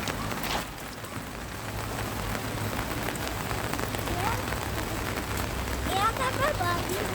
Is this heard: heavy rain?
yes